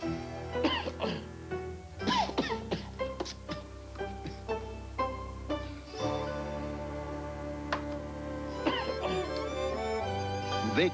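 Repeated short coughs and throat clearing sound up close in uneven bursts, mixed with a steady background hum and some voices, from a 1986 TV commercial for nighttime cold medicine.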